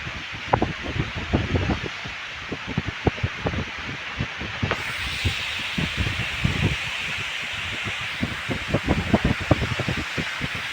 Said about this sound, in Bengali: প্রচণ্ড হাওয়ার দাপট তোমরা নিশ্চয়ই বুঝতে পারছো।